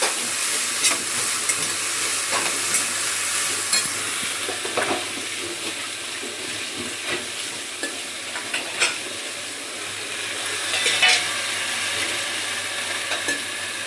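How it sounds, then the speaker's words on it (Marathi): Food sizzles steadily in a pan as salt is stirred in and sautéed, with repeated sharp scrapes and clinks of a spoon against the pan over the constant frying hiss, close and clear. "आता इथे चमचाभर मीठ घातले, थोडंसं परतून घेते"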